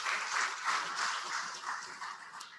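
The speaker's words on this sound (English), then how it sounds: "we give you a round of applause." Audience applause at a close-out and dissemination meeting, a steady wash of clapping that holds for a few seconds at moderate level with no talk over it.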